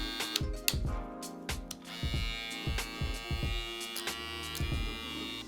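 A BaByliss LoPRO FX hair clipper fitted with wall guards runs with a steady electric buzz and hum, broken by irregular clicks and taps as it works, fairly faint and with no talking.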